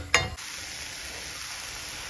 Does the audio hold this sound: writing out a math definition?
no